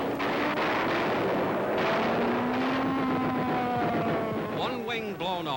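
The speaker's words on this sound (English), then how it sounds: "the USS Nevada and her escorts fight off attacks by kamikaze suicide" Anti-aircraft gunfire from the battleship USS Nevada and escort ships fighting off kamikaze suicide planes off Japan, heard as a loud, continuous roar of guns and engines with wind noise, under a steady narrating voice.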